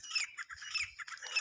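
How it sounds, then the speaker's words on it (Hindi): Birds chirping and squawking outdoors on a misty morning after rain, a quick series of bright, close calls with short gaps between them, and no one talking. "आप पक्षियों की आवाज़ आप सुन पा रहे होंगे"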